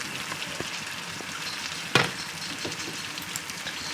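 Meat goes into hot frying spice paste for a ghugni dish, giving a steady close sizzle with one sharp louder burst near the middle and a few light clinks of stirring.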